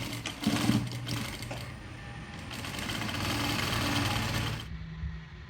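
A sewing machine runs steadily, stitching along the folded edge of a churidar hem, its close motor whir continuing for several seconds before cutting off sharply near the end.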